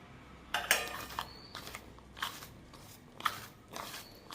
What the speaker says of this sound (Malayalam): ഇതിൻ്റെ കൂടെ കുറച്ച് വെളിച്ചെണ്ണ ഒഴിച്ചിട്ട് ഒരു അല്പം ലേശം ഉപ്പ് ഇട്ടൊന്ന് ഇളക്കിയെടുക്കാം